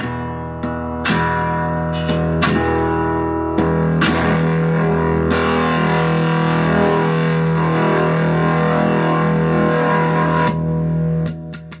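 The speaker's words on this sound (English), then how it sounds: "Right now it's on the clean sound. And then each click gets more distortion." An electric Arturo Fuente cigar box guitar with a Psycho Knob distortion control plays struck notes and chords through heavy distortion, sustained and buzzing, with sharp plucked attacks and a long ringing chord.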